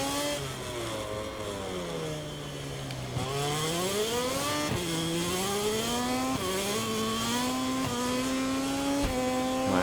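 The KTM GasGas Tech3 MotoGP bike's engine whines in MotoGP 24 at the Sokol circuit in Kazakhstan, its pitch dropping under late braking and then climbing through rapid upshifts, a steady, high-revving racing drone.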